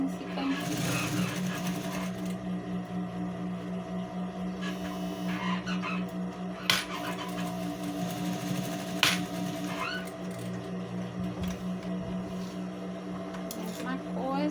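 A sewing machine runs steadily, stitching elastic onto a baby car seat cover with a continuous humming drone and a soft mechanical rattle, plus a few faint knocks, close up.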